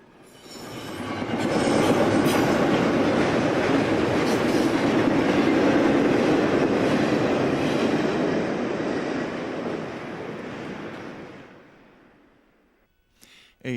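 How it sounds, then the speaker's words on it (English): A heavy eastbound Conrail freight manifest rolls beneath a Norfolk Southern overpass, a loud steady roar of wheels and cars that builds quickly, holds for several seconds, then fades away as the train passes. "A heavy eastbound manifest rolls under the Norfolk Southern Overpass at 7:15 a.m."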